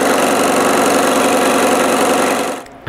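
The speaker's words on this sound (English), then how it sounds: "I need to sand them before sticking them together to cut two postages" A power sander smooths rough marks off wooden letters cut for a wooden postage stamp, a loud, steady, close motor whine that runs unbroken before cutting off abruptly near the end.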